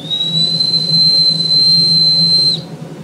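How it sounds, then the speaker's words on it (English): A very short, high organ pipe sounds one steady, piercing whistle-like note, loud and close over a low blower rumble, holding for about two and a half seconds before cutting off cleanly. "that rather sounds like a dog whistle, but this pipe is very short"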